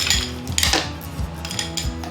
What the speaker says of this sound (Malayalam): ഇനി നമുക്കിതിലേക്ക് ഐസ് ക്യൂബ്സ് ഇട്ട് കൊടുക്കാം.